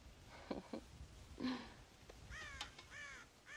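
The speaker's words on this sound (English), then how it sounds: "God damn crows!" Crows caw in Red Dead Redemption, a few harsh calls near the start, then a run of clearer, drawn-out caws in the second half against a quiet in-game background.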